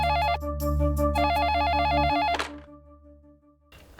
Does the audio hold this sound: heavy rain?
no